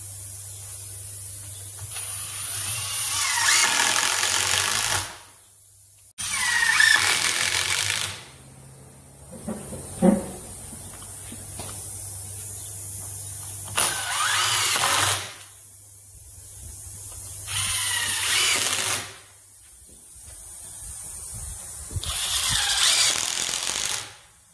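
Power drill driving screws into a wooden horseshoeing stock, heard as several loud whirring bursts a few seconds long, separated by short quiet gaps.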